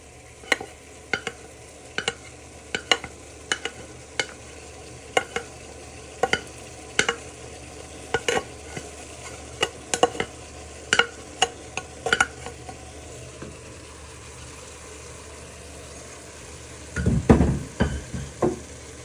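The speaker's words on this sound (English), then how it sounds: "you want to give that a little bit of a stir in" Rice being stirred into fried pork mince with onions, garlic and ginger in a pan: a soft sizzle underneath and a regular spoon tap or scrape every half-second or so, ending in a louder clatter.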